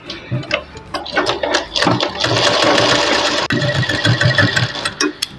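A sewing machine stitches a blouse lining in a fast, continuous mechanical whir with rapid ticking, briefly pausing midway before running on, close and loud.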